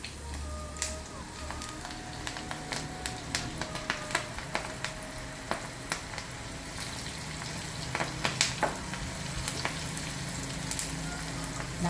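Okra (vendakkai) frying in hot oil for a crispy South Indian snack, a steady bubbling sizzle with scattered sharp pops and crackles running throughout, close and moderately loud with no talking.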